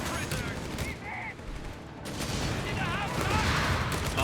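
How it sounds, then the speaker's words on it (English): Half-track grenade launchers firing in a Company of Heroes 3 match between DAK and US forces, a dense wash of battle noise with launches and shots, while a caster talks over it. "More grenades being launched there."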